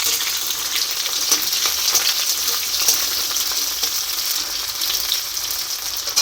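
Chopped onions sizzle in hot oil with bay leaves and chillies, a dense, constant crackling hiss with small pops scattered throughout, close and loud, no one talking.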